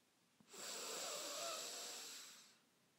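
One long, deliberate breath during a sophrology relaxation exercise, a soft airy hiss that rises, holds steady for about two seconds and fades, close and quiet against a silent background with no talking.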